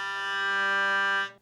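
A single hurdy-gurdy string bowed by the rosined wheel with cotton on the string gives a smooth, steady, bright sustained tone lasting over a second before cutting off, close and alone.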